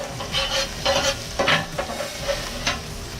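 Vegetables sizzle loudly in a hot pan while being stirred, with repeated scraping strokes over a constant frying hiss and no talking.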